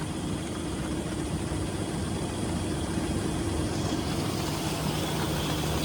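A small tractor idles steadily in a village field during the wheat harvest, a trolley hitched behind it; the low, even engine rumble runs continuously and fairly loud with no talking.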